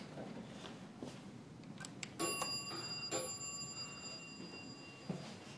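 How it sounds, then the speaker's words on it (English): A Dover hydraulic lobby elevator at a public safety building in Rochester, New York rings its bell: a bright ding that lingers and fades over a low background hum. "Ring the bell."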